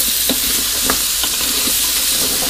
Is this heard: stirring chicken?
yes